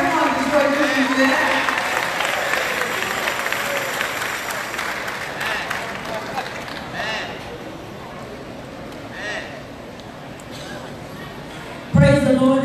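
A church crowd in Detroit claps and cheers loudly at a musical tribute, the applause gradually thinning and fading out, followed by a voice speaking at the end.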